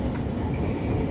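An Argo Bromo Anggrek express train passing close by a moving KRL commuter train: a steady, loud, low rumble and roar of wheels and rails that holds for the whole moment without letting up.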